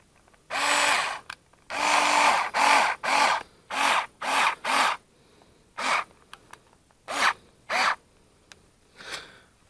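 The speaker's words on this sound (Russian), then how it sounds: "сейчас другой закручу, с той стороны" A power screwdriver drives a self-tapping screw into a plaster beacon on a wall, giving a series of short loud whirring bursts that start and stop repeatedly, close up, with no voices.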